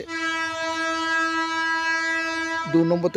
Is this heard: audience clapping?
no